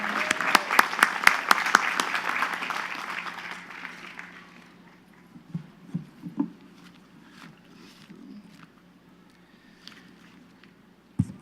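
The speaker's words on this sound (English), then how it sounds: "one big round of applause for our commencement speaker, our representative in Congress" Graduation crowd at a Queens College commencement applauding the commencement speaker, a broad clapping roar with sharp individual claps that fades after about four seconds into scattered claps, thumps and faint voices.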